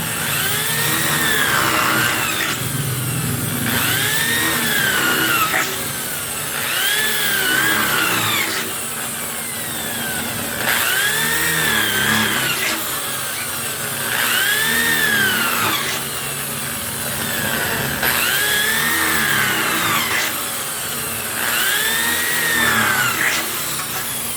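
A power drill boring holes for a flush lock, whining in repeated bursts of a few seconds each with short pauses between, close and fairly loud.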